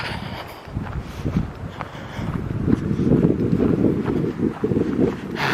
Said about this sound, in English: Windy, just like the last time we were here.